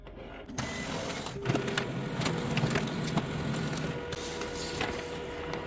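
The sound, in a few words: HP LaserJet Pro MFP 4301 printer making a double-sided copy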